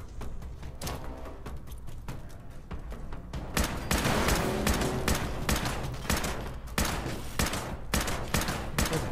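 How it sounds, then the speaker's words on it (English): Dense gunfire from a Fallout 76 firefight against an enemy with a head laser, sustained bursts and rapid shots layered over each other, loud and continuous, growing heavier midway through. "I'm trying to shoot her in the head so she can't use that stupid laser anymore."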